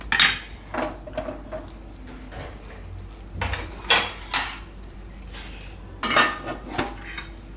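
Spoon or ladle scraping and clinking against a metal pan and plate while cooked potato masala for aloo uttapam is moved onto a plate; several sharp clatters in irregular bursts, close and fairly loud, with no talk.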